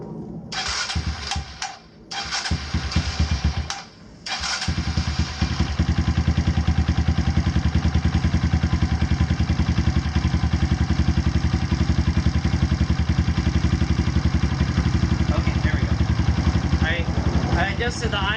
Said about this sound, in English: Adjusted the idle screw a little bit, give it a little more, so I don't have to rev it. Hopefully it'll stay running.